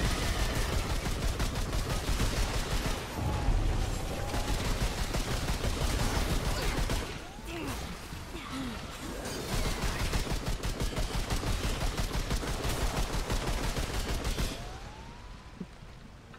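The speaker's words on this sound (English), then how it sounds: "I was just shooting wildly there for a minute" Dense rapid gunfire from the video game Remnant II, with sustained automatic bursts that briefly thin out midway, then resume and stop abruptly near the end.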